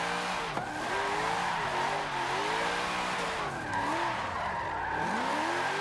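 A drifting car in Forza Motorsport 7 on the Lime Rock Park circuit, driven with a MOZA R3 wheel on Xbox One, howls with a continuous loud tire squeal over a wavering, revving engine throughout.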